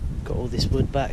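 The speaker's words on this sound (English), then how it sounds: "So sorry about the wind, it's windy today." Strong gusts of wind buffet an outdoor microphone in a low, steady rumble on a windy day at an off-grid timber-framing build site, with someone talking throughout.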